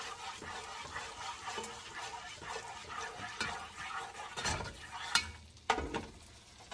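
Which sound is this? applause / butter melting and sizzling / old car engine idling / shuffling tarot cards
butter melting and sizzling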